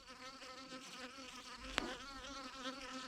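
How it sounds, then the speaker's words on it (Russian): Bees buzz and fly close around a hive during a swarm check, a dense continuous drone with wavering pitch as individual insects pass near, punctuated by one brief sharp tap. "Злая агрессивная пчела хочет меня ужалить."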